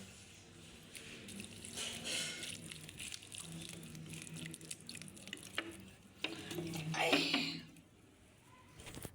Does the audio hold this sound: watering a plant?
yes